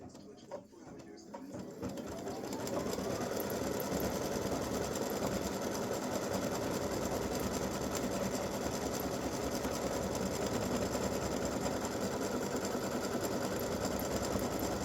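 An embroidery machine stitches a red, white and blue veteran awareness ribbon gift tag in free-standing lace, starting up and then running as a steady, even mechanical whir at close range.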